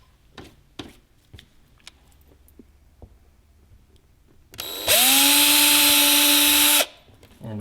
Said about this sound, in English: I'm going to go ahead and start drilling the holes in the bumper